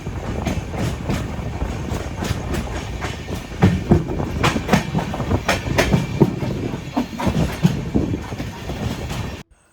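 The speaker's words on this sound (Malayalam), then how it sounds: "തുരങ്കത്തിൻ്റെ അകത്ത് കൂടെയാണെങ്കിലും ട്രെയിൻ നല്ല സ്പീഡിൽ തന്നെയാണ് പോകുന്നത്" An express train on the Kerala to Goa route races through a tunnel past Karwar. The loud, steady roar is punctuated by rhythmic clickety-clack of the wheels and cuts off abruptly at the end.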